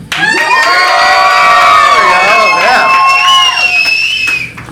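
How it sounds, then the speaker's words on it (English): A loud crowd at a comedy club roars and cheers for a contestant, with high whoops and shouted voices rising and falling together for several seconds before tapering off. "we're doing the loud cheer"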